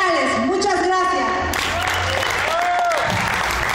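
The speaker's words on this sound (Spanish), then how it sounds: "Fuerte, fuerte el aplauso para estos compañeros de oficinas centrales" Audience applause after an office staff troupe performs the regional Baile de las Vírgenes, with Tehuantepec pre-Hispanic sones, at a 2012 inter-workplace event; steady dense clapping with crowd noise runs throughout while an announcer speaks over it.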